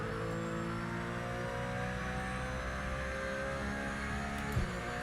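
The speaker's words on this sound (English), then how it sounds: "Sounds good though. Does sound Porsche." A Porsche engine in the Project Motor Racing game holds a steady, droning mid-range note that climbs gradually, loud and continuous without pauses and with no one talking.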